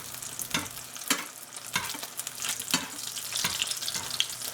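Brick pastry sizzles and crackles in hot oil as it is basted, with sharp spattering bursts rising over a steady frying hiss, close and fairly loud.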